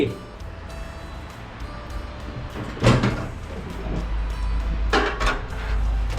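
A microwave oven door is handled to put durian inside, with a clunk near three seconds and another sharp knock around five seconds, followed by a low steady hum.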